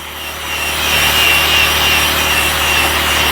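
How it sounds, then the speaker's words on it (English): A drill-powered scrub brush fitted with a toilet bowl attachment grinds steadily against carpet fibres during mold cleanup, a loud, continuous close-up rasping whir with no pauses. "I love grabbing my drill brush with the toilet bowl attachment, and I will go in a forward pace first."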